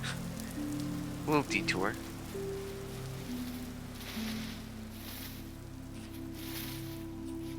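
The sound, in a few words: rain drizzle at a cloud's edge in Vintage Story video game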